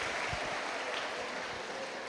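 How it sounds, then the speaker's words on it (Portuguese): A class audience gives a round of applause, a faint, steady patter of clapping with no voices, heard from a distance. "Palmas para vocês!"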